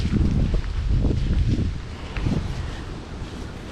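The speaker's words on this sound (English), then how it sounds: "It's a pretty windy day today." Gusty wind buffets the microphone in rough, low bursts, rising and easing with a faint rustle behind it.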